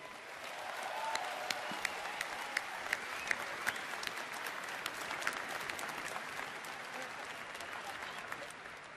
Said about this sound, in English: I'd like you all to give yourselves a huge round of applause.